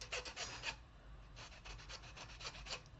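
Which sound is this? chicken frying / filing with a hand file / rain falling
filing with a hand file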